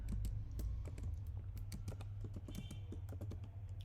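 Rapid keystrokes on a computer keyboard as form inputs are typed while coding, steady clicking taps for about four seconds over a low background hum, close and clear with no speech.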